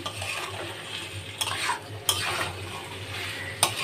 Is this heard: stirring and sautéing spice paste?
yes